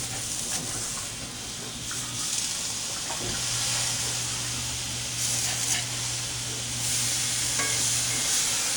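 Steady loud sizzle of lion's mane mushrooms frying in a pan, with a few clattering stirs and flips and a low hum underneath, no talking.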